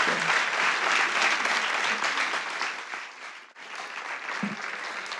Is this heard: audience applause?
yes